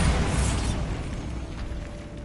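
Bombarda spell explosion in Hogwarts Legacy on PS5: a single loud, deep boom that bursts at once and rumbles off over a couple of seconds.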